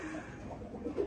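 A Chinese teddy pigeon gives a short, soft, close coo with a low throaty quaver. It stands alone against a quiet background.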